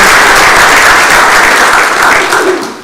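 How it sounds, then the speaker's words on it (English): A room of attendees at a regular municipal council meeting gives a loud, dense round of applause for a youth delegation, sustained and then tapering off at the end. "So I'm going to let you folks clap for this delegation"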